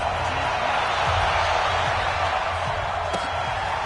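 A video-game stadium crowd roars steadily before a Bengals–Broncos NFL game, a dense, broad wash of cheering that holds evenly throughout with a few faint thumps underneath.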